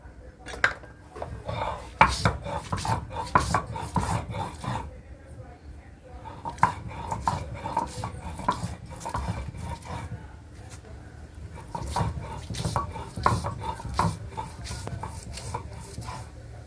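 Ginger chopped and ground by hand on a shil-pata grinding stone, giving repeated knocks and scraping strokes in an uneven rhythm, close and moderately loud, with some clattering of kitchen utensils.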